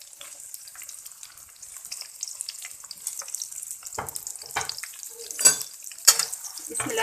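Sliced onions hit hot cooking oil in a wok, giving a faint hiss that builds into louder bursts of sizzle and clatter near the end, with no voices.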